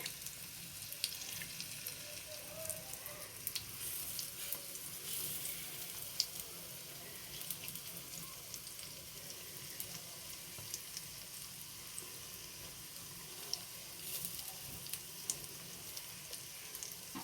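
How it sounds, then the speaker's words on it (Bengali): A fish omelette frying in a pan over low heat, giving a faint, continuous crackling sizzle with small pops, heard close and alone. "একটা পিঠ ভালো করে ভাজাটা হতে দাও"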